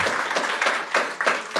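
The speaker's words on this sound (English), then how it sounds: "Oh, now you are clapping for satellites" A live audience applauds briefly at a talk, a dense patter of many hands clapping at moderate distance that swells and fades over a second or two.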